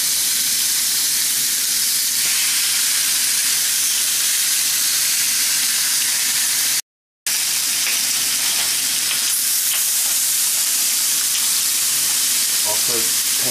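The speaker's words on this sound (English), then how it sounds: "we should get some nice sizzle action when we put these on there" Rib eye steaks and pork loin sizzle and fry loudly in a cast iron pan, a steady close hiss running without a break, with a brief gap partway through and a few faint clinks near the end.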